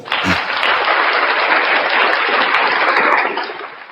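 A dense, loud burst of applause from a crowd at a religious discussion event, steady clapping that rises quickly, holds evenly and fades at the end, with no talking over it.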